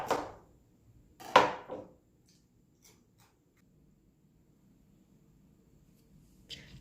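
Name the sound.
knife cutting cauliflower into pieces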